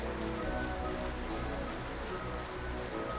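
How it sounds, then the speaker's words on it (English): Steady rain pours down on the Ozmone plains in Final Fantasy XII, a constant, fairly loud wash of patter holding evenly throughout with no talking. "it's raining on the Ozmone plains"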